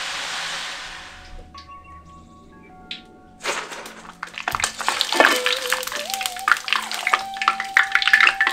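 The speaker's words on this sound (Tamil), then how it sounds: "இப்ப பிசைஞ்சு வச்சிருந்த எல்லா மாவுலையும் இதே போல சுட்டு எடுத்துக்க போறோம்" Omapodi dough pressed into hot oil, at first quiet and then building into a busy crackling sizzle with stirring clatter and a few thunks from the pan, while a voice speaks over it.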